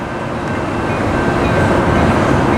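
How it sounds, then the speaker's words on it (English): Southbound Coaster commuter train approaching on the tracks toward San Diego, a loud, steady rumble of wheels and cars that swells slightly across the whole stretch, with no voices. "here comes the southbound coaster coming towards San Diego here"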